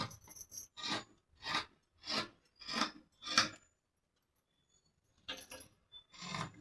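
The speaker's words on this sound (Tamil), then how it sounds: "இதை வந்து நான் ஃபர்ஸ்ட் கட் பண்ணிக்கிறேன்." Scissors cut through blouse fabric in a tailoring session, a series of regular rasping snips close by, a brief pause, then two more cuts.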